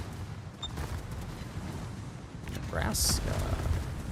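Torpedoes strike and explode against an enemy ship in a naval battle game, a rumbling run of muffled blasts with a sharp burst near the end, under a speaking voice.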